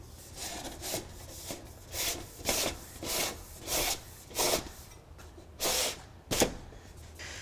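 ClickLock metal gable edge trim slid into place on a roof, a series of soft repeated scraping rubs of metal on metal in short strokes, close but quiet, with no talking.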